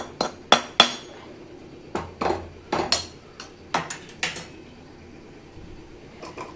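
A pestle pounds a roasted gram flour mixture for laddu in a metal vessel, giving sharp, close clanking strikes in irregular clusters with short pauses between them.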